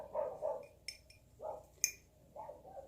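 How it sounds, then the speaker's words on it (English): Dogs bark outside, heard from indoors as a few faint, distant, spaced-out barks, mixed with a couple of sharp clicks nearby. "dogs are going nuts outside"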